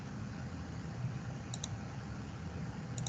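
A computer mouse clicks on a software button: a couple of quick, faint clicks close together, then another near the end, over a low steady background hum.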